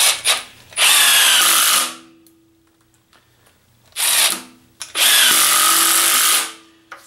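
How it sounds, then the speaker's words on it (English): A Milwaukee M18 FUEL 2653-22 impact driver runs screws in three loud whirring bursts, each a second or more, with quiet pauses between. "it runs them down like a drill, and then as soon as it starts hitting some pressure, it's going to kick in those impacts"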